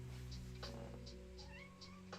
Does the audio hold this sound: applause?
no